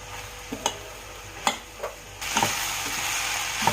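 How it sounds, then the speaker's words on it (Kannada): Drumstick leaves go into a pan with cooked onion and turmeric, bringing a few scattered clicks and taps and then a louder, steady frying hiss in the second half. "ಇವಾಗ ಸೊಪ್ಪು ಹಾಕ್ತಾ ಇದ್ದೀನಿ"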